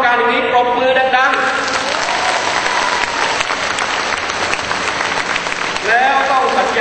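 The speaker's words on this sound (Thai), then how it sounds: "ถ้าต้องการอย่างนี้ปรบมือดังๆ" Dense crowd applause at a political party leader's rally in Phetchaburi, Thailand, a loud sustained roar of clapping that fills the whole stretch, with a voice briefly heard at the start and end.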